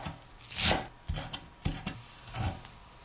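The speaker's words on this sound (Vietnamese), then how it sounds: "Còn phần lá hành và ngò rí thì mình cắt nhỏ ra ha" A knife chops green onion leaves and cilantro on a cutting board, giving four short separate bursts of crisp cutting strokes, close and clear, with no talk.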